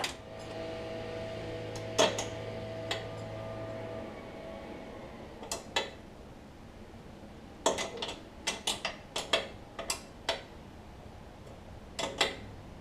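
Sharp metallic clicks and ratcheting from a torque wrench tightening lower ball joint fasteners on a 1959 Chevrolet Bel Air, a few scattered clicks early, then a rapid irregular burst of clicks near the end, close and clear with no talking.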